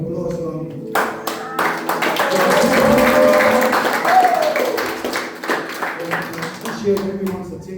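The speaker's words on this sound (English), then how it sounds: "Why don't you give a round of applause for" A church audience at a Samoan cultural night claps and cheers. The applause swells to a dense, loud round, with voices calling out over it and a few sung or shouted tones, then thins to scattered claps.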